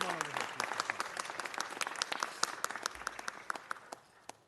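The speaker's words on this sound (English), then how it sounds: "Let's give her a big round of applause." An audience at a Los Angeles City event applauds steadily, a dense run of many hands clapping nearby that holds for several seconds before thinning out toward the end.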